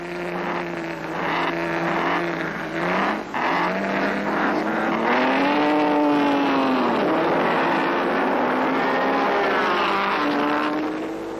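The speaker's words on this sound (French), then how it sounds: "De vraies voitures de Grand Prix." Late-1930s Grand Prix race cars, including Mercedes, racing at the Reims Grand Prix de l'ACF, their engines a loud, continuous roar with pitch rising and falling through gear changes as the cars pass.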